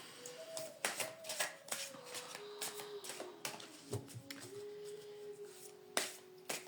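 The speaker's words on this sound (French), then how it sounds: "Une carte pour Amélie." Cards shuffled by hand for a tarot-style card reading, producing a close, quiet series of sharp riffling flicks and slaps at irregular intervals, with a soft tonal hum running underneath.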